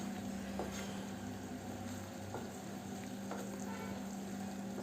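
Jaggery and curry leaves are stirred into a simmering tomato and onion curry, a faint steady sizzle and bubbling with a few soft utensil scrapes, heard alone at low level under a constant low hum.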